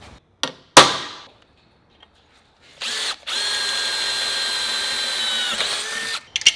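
A power drill bores a hole through a metal bracket for a custom chopper: a couple of sharp metallic clanks, then a loud, steady whining drill run lasting a few seconds before it stops, no talk.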